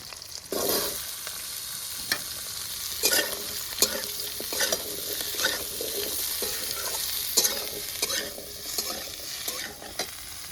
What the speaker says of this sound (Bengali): এবার ফুলকপি আলুগুলো কেটে রাখা ছিল সেগুলো দিয়ে দেবো